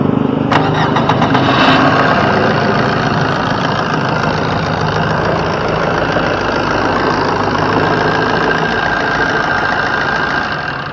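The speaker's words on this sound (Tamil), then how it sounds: "வாங்க வண்டியோட இன்ஜின் சவுண்டு எப்படி இருக்கு அப்படின்றத கேட்போம்" A Maruti Suzuki Swift petrol engine idles loudly up close, a steady rumbling drone that holds evenly throughout.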